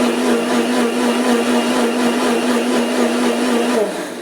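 A kitchen mixer grinds coconut, curd and chillies with a loud, steady motor whine that holds for about four seconds before starting to wind down at the end.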